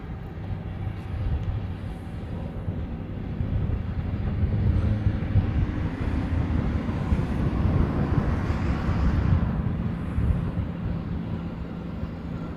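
A Qantas Boeing 787 in the Yam Dreaming livery arrives as a continuous broad jet roar that swells through the middle and then eases slightly, heard from a distance with no other clear sounds.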